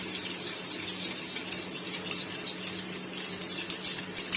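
Refined oil being stirred by hand into sponge cake batter in a bowl, a steady soft scraping and swishing with occasional light clinks of the utensil against the bowl, close and fairly quiet with no talking.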